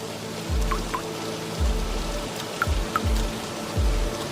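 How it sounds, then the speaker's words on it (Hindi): Rain falls in Kandy, Sri Lanka as a steady wash of drizzle with scattered drips and a few heavier low thumps of water, close by and without speech. "हम लोगों ने श्रीलंका में पहली बारिश विटनेस की।"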